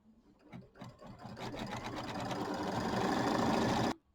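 An embroidery sewing machine quilts a small mini quilt, its needle running in a fast, steady buzzing clatter that builds to a loud, continuous drone for about four seconds before stopping abruptly.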